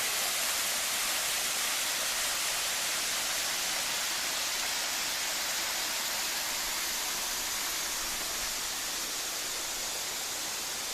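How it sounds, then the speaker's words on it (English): Waterfall on the North Fork Moormans River in Shenandoah National Park, heard from a high rock above a swimming hole as a steady, dense rushing roar without breaks. "There's the waterfall."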